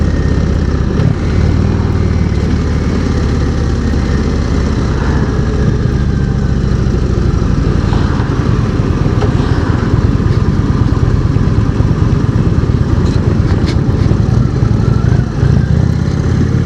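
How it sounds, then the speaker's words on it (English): An Indian Springfield motorcycle's engine and loud exhaust rumble continuously on a demo ride, a deep steady throb with wind noise, heard close and loud for about seventeen seconds without speech. "It seems like just naturally they all have a really nice and loud sounding exhaust."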